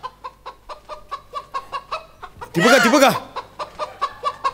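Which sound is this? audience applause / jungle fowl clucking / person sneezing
jungle fowl clucking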